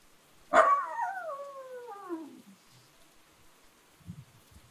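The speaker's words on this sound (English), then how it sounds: "Sounded like a cute howl." A single drawn-out howl rises sharply then slowly slides downward and fades, followed by quiet and a few faint low sounds near the end.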